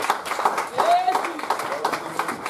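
A church congregation claps and applauds in praise of the word of God, a scattered, moderately loud patter of hands with a voice speaking over it.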